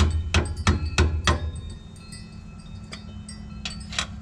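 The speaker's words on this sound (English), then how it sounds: "So I'm just gonna get this flathead and try to get it here in between." A flathead screwdriver worked in to pry the axle cover off a Ford 8.8 rear end: four sharp, close metallic strikes in quick succession, then quieter scraping and small clicks.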